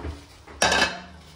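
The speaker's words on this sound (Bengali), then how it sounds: "দুদিকে দুটো কড়াই চাপিয়ে দিয়েছি," A heavy iron wok set down on a stovetop in a home kitchen, one sharp metallic clank and rattle followed by a brief ringing decay, close and alone.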